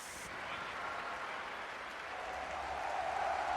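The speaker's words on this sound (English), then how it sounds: "A lot of Fnatic fans cheering here." Fans cheer at a Dota 2 esports tournament, The International 2021, as a steady, distant roar of crowd noise and applause that swells slightly toward the end.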